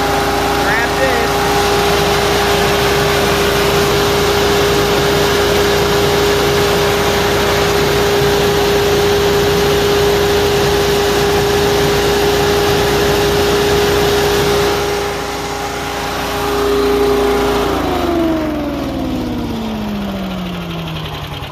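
A walk-behind leaf blower engine runs steadily at full throttle, a loud, even drone close by that holds its pitch, then drops as the engine slows near the end.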